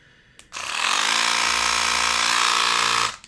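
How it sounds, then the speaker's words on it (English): A LifeBasis rechargeable mini power scrubber whirs loudly and steadily for about two and a half seconds, a close, constant motor drone starting and stopping abruptly. "this is made from LifeBasis little power scrubber, mini power scrubber. Sounds very torquey."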